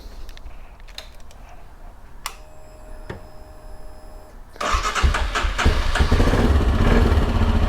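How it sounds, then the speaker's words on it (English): A Royal Enfield Himalayan motorcycle, just fitted with new relays, has a few quiet clicks and a brief whine before it starts. Its engine then catches and settles into a loud, steady, close idle. "Tuck that in and then make sure the bike fires up."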